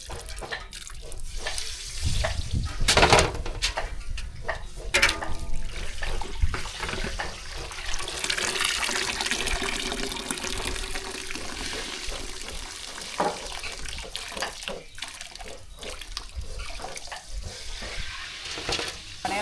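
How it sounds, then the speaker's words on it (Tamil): Soaked semiya vermicelli being strained, water gushing and splashing through a strainer in a kitchen, a loud sustained rush of draining liquid close by with clatter and shifting, no talk. "சேமியா வந்து வெந்நீரில் போட்டு ரெண்டு நிமிஷம் ஆச்சு இப்போ அரிச்சு எடுத்துக்கலாம் தண்ணி இல்லாமல் நல்லா வடிகட்டிக்கலாம்"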